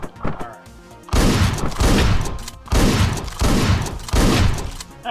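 Loud gunfire from the top-down video game Hotline Miami, coming as a run of heavy, booming blasts in quick succession that fill most of the stretch after a quieter opening.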